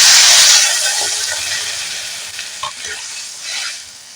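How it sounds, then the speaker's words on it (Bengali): Ridge gourd and eggplant fry loudly in a pan, with a strong hissing sizzle at first that gradually settles while a utensil stirs and scrapes through the vegetables nearby. "এই ঝিঙে বেগুন দিয়ে ভালো করে নাড়াচাড়া করে দেব"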